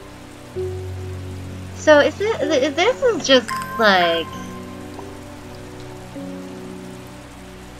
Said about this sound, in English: The soft noise of the rain